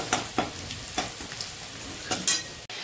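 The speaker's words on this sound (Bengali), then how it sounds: "তো চলছে আমাদের মাংস কষানো।" Meat being sautéed and stirred in a pan with onion, giving soft sizzling and irregular scraping strokes of a spoon at a moderate distance, with no voices.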